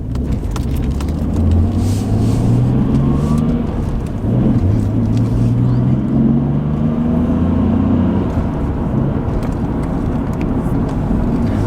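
A Nissan R32 GTR drives along a road, its engine rising and falling in pitch through several gear changes, loud and close from inside the car, with a steady road roar beneath.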